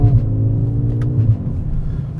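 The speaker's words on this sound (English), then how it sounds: "the downshifts, look at that. They're second gear. Ooh, get some pops from the exhaust." Mercedes CLA35 AMG with a quick-shifting dual-clutch transmission dropping into second gear, the engine note falling through a downshift with a few sharp exhaust pops, loud and close over a low rumble.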